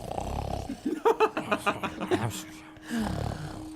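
A voice imitates soft snoring during a tabletop role-playing session set in an icy wilderness, giving a few slow breathy snore sounds followed by a rhythmic run of short snorting puffs.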